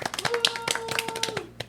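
Audience applause for Leslie at a live talk-show taping, a dense run of close hand claps lasting a couple of seconds with a steady tone humming underneath.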